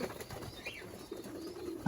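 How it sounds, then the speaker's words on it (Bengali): Male pigeons coo softly at close range in a single low, rounded call, with faint rustling and a sharp knock at the very end. "এ হলো নর কবুতর গুলা"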